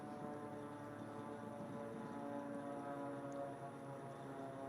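A racing airplane flies the course at the 2021 Reno Air Races, its engine a steady, droning buzz with rich harmonics, heard at moderate distance and holding level without a clear swell.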